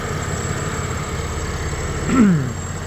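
A Buick 3800 Series 1 V6, freshly overhauled and warmed to operating temperature, idles with a steady low throb and faint whine close by, and a brief louder scrape or squeal swells near the end.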